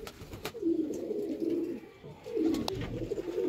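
Cross-breed pigeons, a male and female pair, cooing close by in soft, throaty, rolling phrases, with a couple of light clicks and rustles in between.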